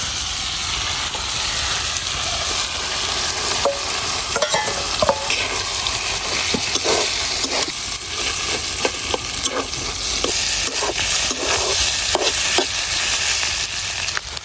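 Carp roe with boiled potatoes and flat beans fries in oil, a steady close sizzle running throughout with frequent scraping and tapping of a spatula stirring the pan.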